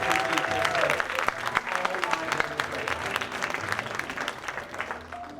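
Thunderous audience applause at a fall preservice staff gathering, a dense steady wash of many hands clapping for several seconds, with faint voices mixed in before it tapers slightly.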